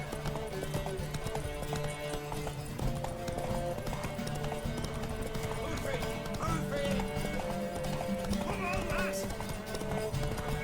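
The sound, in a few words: horse hooves and neighing in the video game The Witcher 3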